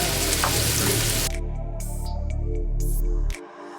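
Onions frying in a pan, a loud close sizzle that drops sharply in intensity partway through with a few crackling bursts, then cuts off near the end.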